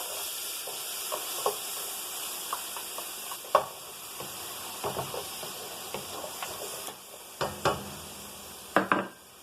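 Onions fry in a pan with a soft steady sizzle and hiss, broken by scattered spoon clinks and stirring scrapes against the pan.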